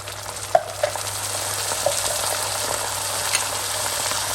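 Tomatoes frying in a pan with kalonji and fennel seeds for achari baingan, a loud continuous sizzle close up, marked by a few sharp stirring knocks and clatters, without any voices.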